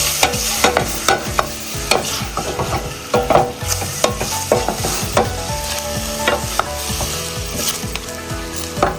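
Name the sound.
stirring spicy chicken liver, heart and gizzard adobo in pan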